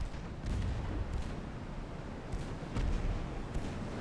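3-inch naval guns fire in the Ultimate Admiral Dreadnoughts naval warfare game, about five muffled booming shots spaced irregularly over a low, steady battle rumble.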